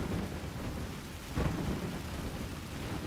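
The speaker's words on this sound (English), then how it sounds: "Why is it raining in the Karui Shores?" Rain falls steadily in the Path of Exile video game at the Karui Shores, with a low rumble of thunder swelling midway, a continuous soft wash with no voices.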